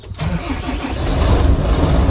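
A large truck engine cranks and catches with help from an ST3000S supercapacitor jump starter, settling into a loud, steady rumbling idle close by with no voices.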